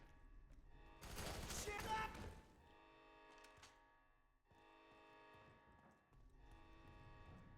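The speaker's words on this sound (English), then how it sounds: "Every time I get close to an enemy, I can just shoot him with the shotgun." Shotgun fire in the video game F.E.A.R. 3 bursts out as a loud cluster of rapid blasts lasting about a second, then gives way to quieter game ambience with a few dull thuds and sustained tones.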